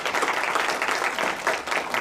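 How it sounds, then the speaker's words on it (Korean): Audience applause at a panel discussion, steady dense clapping from a room of people lasting the whole short stretch without a break. "박수 여기서 한번"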